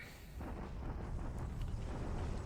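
Bombardment in a World War II strategy game set in 1942, a low rumbling blast that swells after a brief lull and rolls on steadily with a faint crackle.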